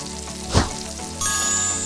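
Shrimp dropped into hot oil in a pan for Hong Kong style Yangzhou fried rice, a soft crackling sizzle with a brief thump, then a louder steady frying hiss, close up.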